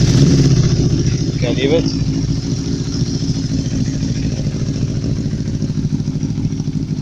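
A 1975 Honda CB400 Four Supersport motorcycle engine runs steadily at idle with a brief rev, loud and close throughout, while a person speaks briefly over it.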